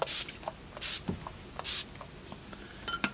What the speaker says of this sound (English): I'm going to spray my face with a little bit of Fix Plus